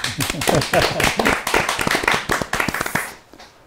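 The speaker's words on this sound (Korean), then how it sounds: "감사의 박수" Audience applause at a community arts meeting, rapid overlapping claps, fairly loud and close, tapering off near the end; some voices mixed in.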